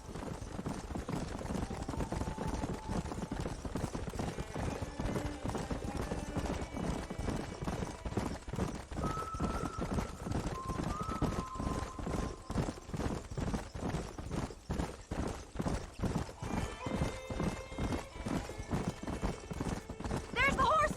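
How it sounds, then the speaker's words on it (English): Horses in the Western video game Red Dead Redemption, a steady run of rapid hoofbeat clip-clops with occasional neighs, close and continuous for the whole stretch while characters talk over it. "There's the horses!"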